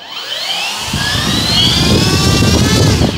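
A 1.5 m Kavan Pilatus PC-6 Porter RC model plane's electric motor whines up loud and near, its rising pitch and propeller drone swelling steadily with no talking.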